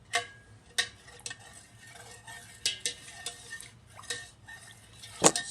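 A spoon clinks against a metal Instant Pot insert while yogurt is stirred into milk, producing soft scattered taps and scrapes with a quiet liquid swish, close and fairly faint.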